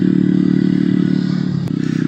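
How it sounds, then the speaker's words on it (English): Honda Grom motorcycle fitted with a loud Zoom exhaust, ridden off road, giving a close, steady, rasping low-pitched drone with a brief clatter near the end. "That Zoom exhaust is loud."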